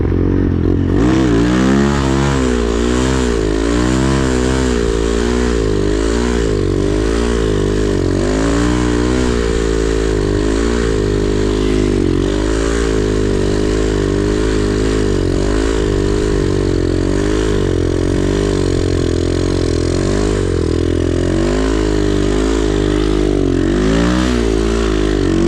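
Boom Vader 125 (2022), a small grom-style motorcycle, revs and rides continuously in winter conditions, its loud engine note rising and falling with throttle blips throughout, with no talking.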